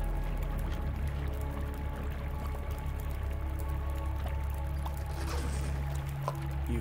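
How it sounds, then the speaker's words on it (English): Running water in The Long Dark survival game, a steady pouring, trickling flow heard throughout, fairly faint and continuous beneath a low constant rumble, with a few small clicks and knocks but no talking. "Now I hear running water"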